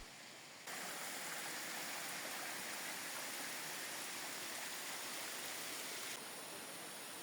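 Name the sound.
waterfall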